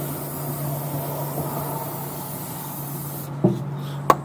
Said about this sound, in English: Now we're really going to coat the inside. Some penetrating oil.